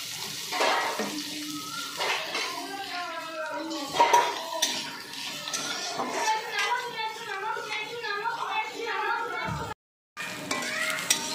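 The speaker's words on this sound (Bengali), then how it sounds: "এবার একটা পেঁয়াজ ভেজে নিচ্ছি।" An onion fries in a pan of oil already used for chillies and whole cumin, with a soft sizzle under clattering utensils, stirring scrapes and a brief run of water; a voice is heard in the background.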